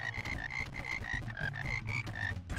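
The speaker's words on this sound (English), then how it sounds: "Frog noise." A frog in the Frogun video game croaks in a fast, regular series of about a dozen close, pulsing croaks, heard alone without talk.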